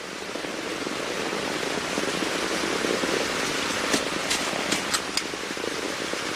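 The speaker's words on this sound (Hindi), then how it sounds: "बारिश होने लगी।" Steady rain pours down in a dense, even hiss, with a few sharper drips and patters standing out near the end.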